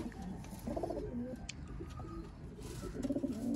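Soft, low coos from Sialkoti pigeons repeat in short rolling bursts over a steady background murmur, close by and moderately quiet.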